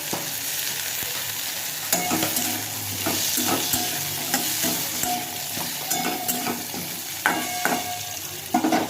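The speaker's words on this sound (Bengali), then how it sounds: "এরপর টমেটো দিয়ে দিলাম। টমেটোটাকেও ভেজে নেব কিছুক্ষণ।" Tomatoes fry in a pan during home cooking, giving a steady close sizzle broken by repeated scraping and knocking of a spoon stirring against the pan.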